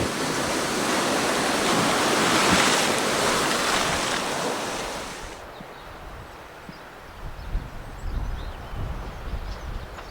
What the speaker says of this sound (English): It's a little bit windy today